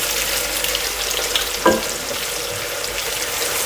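Shallots frying in a pan for Kerala beef fry, making a steady close sizzle broken by a brief stirring knock midway, loud and continuous without talk.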